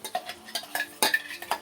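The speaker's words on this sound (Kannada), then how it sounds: "ರುಬ್ಬಿರುವಂಥ ಚಟ್ನಿನ ನಾನು ಇದಕ್ಕೆ ಹಾಕ್ತಾ ಇದ್ದೀನಿ. ಚೆನ್ನಾಗಿ ಮಿಕ್ಸ್ ಮಾಡ್ಕೊಳ್ಬೇಕು." Ground curry-leaf chutney is stirred in a metal pan with a utensil, giving several quick scraping and clinking strokes in an uneven rhythm. The sound is close and clear, with no talking.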